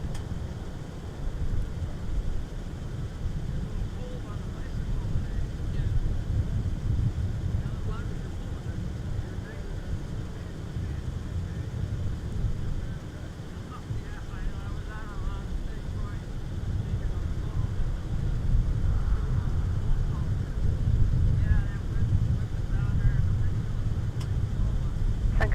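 Steady wind rushes and buffets across outdoor ambient microphones at MSP Airport, a continuous broadband roar lasting throughout with slight surges, while faint airport background sounds sit underneath.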